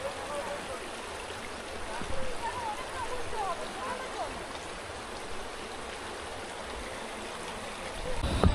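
A forest stream near Sitakund in Simlipal, Odisha, flowing steadily with a continuous rushing babble under a voice, with small splashes toward the end.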